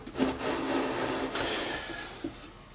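Sandpaper rubs back and forth across a wooden side panel's angled bevel, a steady raspy scraping with brief strokes and no speech.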